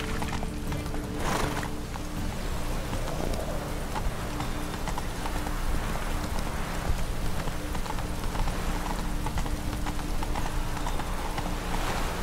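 Horse hooves clip-clop steadily as Roach is ridden in The Witcher 3, a continuous rhythmic trot with soft rain-like hiss in the background and no talk.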